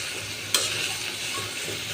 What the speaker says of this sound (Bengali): এটার পেঁয়াজটা আমি একটু ভেজে নিব